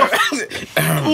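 A short, small cough or throat-clearing sound made by a voice during a podcast conversation, brief and close, with speech around it; it seems to be an imitation.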